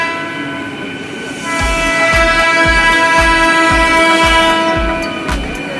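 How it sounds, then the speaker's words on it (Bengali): A train pulls into a railway station with a sustained, loud horn blast over the steady rumble, while wheels thump rhythmically over rail joints about every half second as the carriages roll past close by. "এখন ট্রেন চলে এসছে আমরা এবার ট্রেনে উঠবো"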